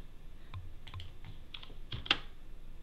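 A computer keyboard is typed on in short, quiet bursts of key clicks at an irregular rhythm, close and soft, with no voices.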